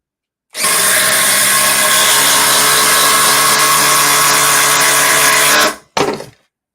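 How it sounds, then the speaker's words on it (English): A DeWalt power drill running on a Power Stack battery spins up abruptly and whirs loudly and steadily for about five seconds under load, cuts out, then gives one short final burst. "This is the DeWalt power stack."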